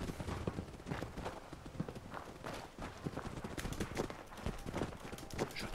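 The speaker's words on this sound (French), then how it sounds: "J'entends des bruits de pas en fait" Footsteps in the Fallout 4 video game, a quiet, steady patter of quick repeated steps over low background game ambience.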